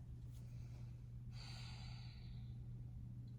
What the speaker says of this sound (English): Let's take a few breaths together.